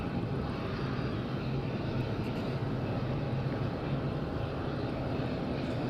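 An aircraft climbs steeply out of Madeira Island Airport with a powerful, continuous engine roar, dense low rumble held steady throughout and heard fairly close.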